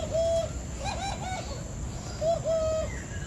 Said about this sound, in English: Oh, that is a creamy pigeon.